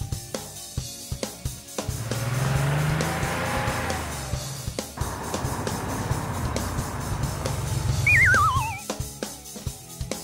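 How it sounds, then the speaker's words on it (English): A racing car roars past with rising and fading engine noise over about eight seconds, then a sharp wavering tire squeal near the end, amid scattered clicks and knocks. "Car."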